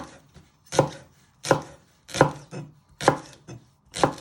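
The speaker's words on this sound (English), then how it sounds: "Then you just want to finely slice them" A sharp knife finely slices leeks on a cutting board, six crisp, evenly spaced chops ringing out loud and close with short quiet gaps between them.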